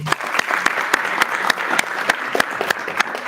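Audience at a final academic competition applauding as contestants' names are read out, a steady patter of clapping from a moderate crowd with scattered sharper claps throughout.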